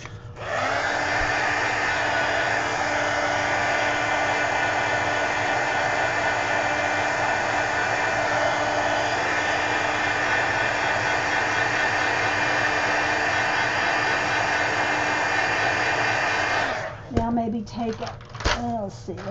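A handheld hair dryer blows steadily on wet watercolor paint, a loud, close, continuous whooshing hum that holds for about sixteen seconds before switching off, followed by a few faint handling clicks.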